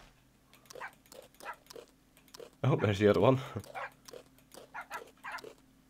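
A dog in Minecraft lets out a short, loud burst of barking in the middle, with someone talking before and after it.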